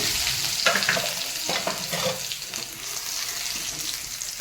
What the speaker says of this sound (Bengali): এবারে রসুনটা তেলের উপরে দেবো ফ্লেভারটা ভালো হওয়ার জন্য